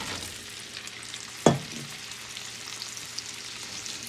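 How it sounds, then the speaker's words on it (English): Potatoes shaken in a pan of caramelizing sugar for Danish candied potatoes give a constant hiss, with one sharp knock from the pan about a third of the way in and occasional light ticks. "I'm simply going to shake the pan and move them around and get them coated"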